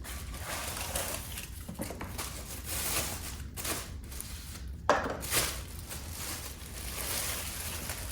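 Pan lids and pans from a brand-new cookware set handled during unboxing, with scattered light knocks and clinks over a steady rustling background, one sharper clack standing out near the middle.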